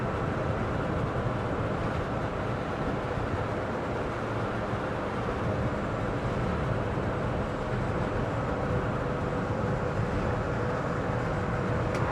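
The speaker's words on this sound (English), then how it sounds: "You're getting a bit of wind noise now, I expect." Steady, loud wind and road roar inside a moving Citroen Ami electric car driving in the wet, a constant broadband rush with no one speaking.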